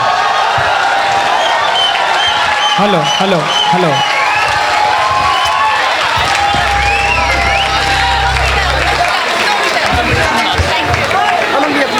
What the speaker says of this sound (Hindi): सर और सारे लोग खड़े होकर जोरदार तालियां बजाएं अमन भैया के लिए